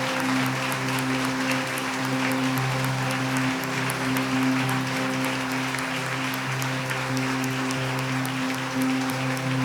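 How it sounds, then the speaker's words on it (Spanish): A church congregation applauds its audio team with steady, continuous clapping at an even level, over a constant low hum in the room. "¿Cuántos le damos un aplauso a todos ellos porque lo que hacen?"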